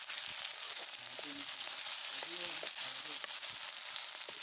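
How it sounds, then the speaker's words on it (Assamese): Ginger-garlic paste and onions frying in oil for a pork dish give a soft, steady sizzling hiss, fairly faint, with muffled voice-like murmurs faintly in the background. "তাৰপাছত আদা নহৰুখিনি দি দিছোঁ"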